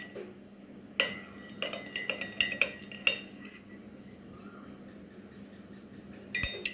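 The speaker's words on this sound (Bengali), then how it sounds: "2 চামচ চিয়া সিড এর মধ্যে দিয়ে দেব।" A small spoon clinks sharply against a glass as chia seeds are added for a detox drink, with a handful of bright, close taps in quick bursts separated by quiet pauses.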